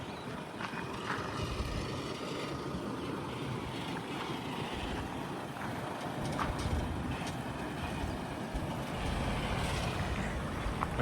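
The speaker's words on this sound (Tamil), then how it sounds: "வண்டி திரும்புது" Tipper truck turning around on a house foundation job: a steady, broad engine rumble and road noise runs throughout, moderately loud and continuous, with no voices over it.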